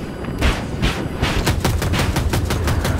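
Rapid bursts of automatic gunfire from a vehicle gunner's weapon in Battlefield 2042 rattle loud and close, the shots running in quick repeated volleys for the whole stretch.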